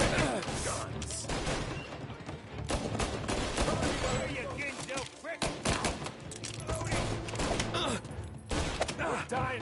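Dense bursts of gunfire from a video game crackle and pound almost continuously, mixing rapid automatic fire with heavier booms and crashes while voices shout over the barrage.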